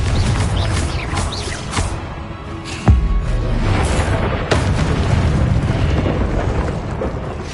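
A Confringo spell explosion in a Harry Potter video game, a loud booming blast with a sharp impact near the middle, set within a dense, continuous roar of game noise.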